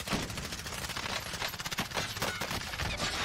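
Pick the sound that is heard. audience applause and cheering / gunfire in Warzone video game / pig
gunfire in Warzone video game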